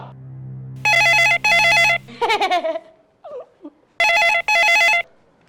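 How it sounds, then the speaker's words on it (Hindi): A telephone rings in two loud double bursts, separated by a short stretch of voices, ringing clearly and close. "हाँ, अच्छा हुआ आपने फोन किया, मैं मिस्टर बजाज को ही फोन करने वाला था।"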